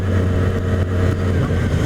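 A 2014 Yamaha R6 sport motorcycle engine drones loudly and close, with a steady buzzing note and a brief dip as it shifts gear, over wind roar.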